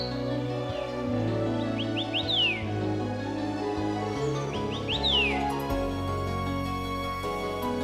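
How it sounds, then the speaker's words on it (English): Birds sing in the Basianshan National Forest Recreation Area, repeated clear chirps and rising whistles over layered background music. "We walk a distant path, cheered by the bird songs above."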